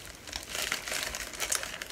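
A plastic bag from a Diamond Dotz diamond-painting kit crinkles and rustles continuously at close range, with irregular crackling bursts and no voices.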